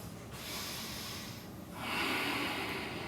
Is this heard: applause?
no